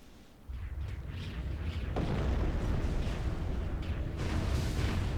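Explosions from Leshrac's Diabolic Edict in Dota 2, a dense, continuous barrage of rumbling booms and bursts. It is loud and steady throughout, with sharper hits standing out in the mix.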